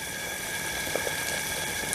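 Water boils steadily in a pan used for rust bluing O1 steel knife blades, a continuous close bubbling hiss with a few faint pops and no voices.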